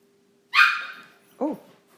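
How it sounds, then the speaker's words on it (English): A pet dog barks indoors during a chest trauma lecture: two short, fairly loud barks, the first sharp and bright, the second lower and shorter, with quiet before and between. "Oh, sorry, that was my dog."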